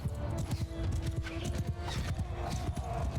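Horses gallop across a battlefield in Mount & Blade II: Bannerlord, a dense, continuous drumming of many hooves with rumbling low thuds, steady and fairly close throughout, with no voices over it.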